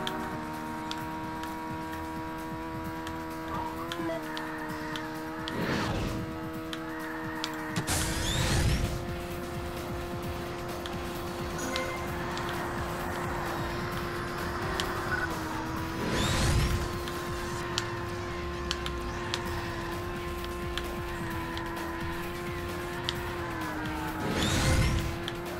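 Race cars in the video game Burnout 2: Point of Impact, driven as a driver's ed car: a steady engine drone holds throughout, broken by several brief whooshing rushes of cars passing by. No speech.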